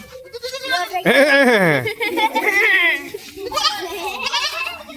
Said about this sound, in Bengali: এখন ছাগলের মতো ডাকতেছে